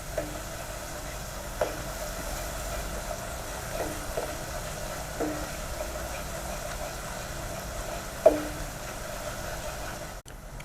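Garlic paste fries in a pan with a low, steady sizzle, broken by occasional faint scrapes and stirring clicks, with no talking over it.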